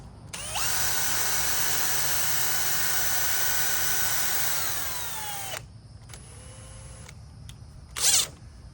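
A power tool tightens a nut and washer down a threaded rod while building a heavy-duty dolly. One long close whirring run winds down, then a shorter burst follows, and there is a brief sharp noise near the end.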